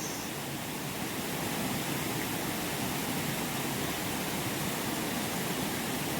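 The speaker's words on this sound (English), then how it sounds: "Go look at all that water coming off the waterfall there." Water pouring down a small waterfall fed from up the road, a steady, soft, even rushing hiss with no break, heard on its own.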